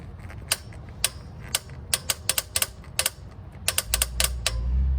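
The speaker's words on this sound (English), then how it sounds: "so we'll tighten it to 18 foot-pounds or 25 Newton-meters." Torque wrench tightening a metal oil filter cap on a Toyota 4Runner's 1GR-FE engine, giving sharp, close ratcheting clicks in irregular bursts over a quiet background, with a low hum rising at the end.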